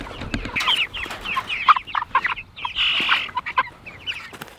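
Chickens cluck and squawk nearby in a busy, irregular chorus, with no one speaking.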